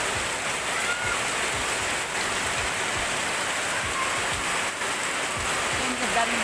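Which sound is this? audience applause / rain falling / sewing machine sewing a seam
rain falling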